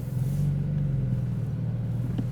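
Engine of a Porsche Boxster while driving, comparing the older 986 and newer 718 models: a steady low rumbling drone holding close and even throughout, alone without voices.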